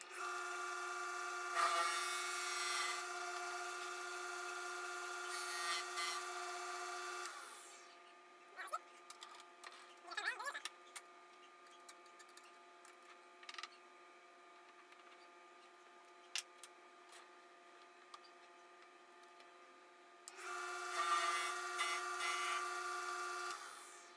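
Barrel trimmer on a lathe cutting the end of an Alumilite pen blank, a loud, steady high-pitched grinding whine in two bursts separated by a quieter stretch with scattered clicks and knocks.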